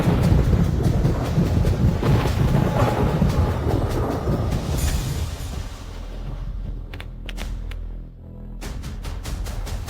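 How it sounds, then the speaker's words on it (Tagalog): Deep thunder rolls and rumbles loudly through the first half, fading into a quieter stretch with scattered crackles, heard alone on an outdoor film set as a storm approaches. "Kumukulog."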